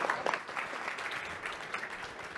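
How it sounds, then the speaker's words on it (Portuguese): A fintech pitch competition audience claps continuously at a banking technology event, a moderate wash of hands that starts a little stronger and settles into steady, slightly distant applause with no speech over it. "mais uma salva de palmas"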